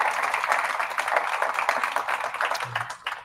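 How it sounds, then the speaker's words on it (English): Audience at a pitch competition applauding its sponsors, a steady wash of many hands clapping at moderate volume that tapers slightly toward the end. "please give them a round of applause"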